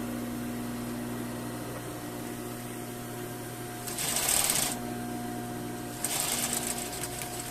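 A sewing machine stitches a seam in two short bursts of fast, even chatter over a steady background hum, with a pause between runs.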